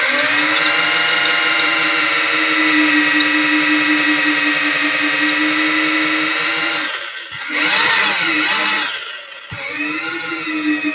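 An electric drill with a masonry bit bores into brick, a loud steady whine holding for several seconds, then briefly easing and revving back up as the bit works through the hole.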